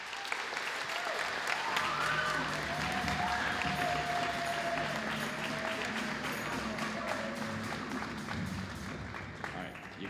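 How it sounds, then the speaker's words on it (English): Audience applause for graduating seniors at a school band and orchestra concert, a steady, full wash of clapping that holds at even strength for about ten seconds with faint crowd murmur beneath. "another round of applause for our seniors"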